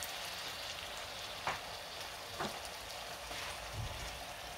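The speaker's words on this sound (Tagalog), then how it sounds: "I-mix lang guys yung ating niluluto." Food fries in a pan with a soft, steady sizzle, broken by a few brief scraping clicks of a utensil stirring, quiet and close with no talk.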